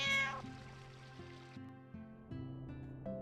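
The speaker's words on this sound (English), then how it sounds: "Nah, that cat's meow's not loud" A cat in Final Fantasy IX meows once, high and clear, at the start, followed by soft looping game music and a faint trickle of water.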